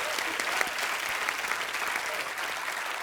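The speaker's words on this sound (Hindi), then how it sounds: "जोरदार तालियां इस बात के लिए।" Studio audience applause on a Hindi comedy talk show, a steady, fairly distant wash of many hands clapping that holds evenly throughout.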